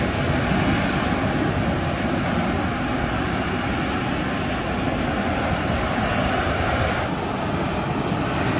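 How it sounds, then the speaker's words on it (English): A steady, loud Harrier jump jet engine roar while hovering above water holds constant throughout, with a thin high whine riding on top and no voices. "This Harrier jump jet hovering above the water."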